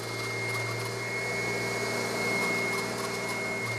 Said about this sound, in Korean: 10kg이 넘는 무게의 청소기를 꾹꾹 눌러가며 문지르는 일은 제법 힘이 많이 드는 작업.